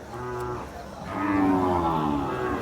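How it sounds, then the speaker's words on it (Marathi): A calm Khillar cow at the Sangola cattle market lows twice, close and loud, with a short moo followed by a longer, drawn-out call. "त्यामुळं शांत स्वभावाची गाय आहे"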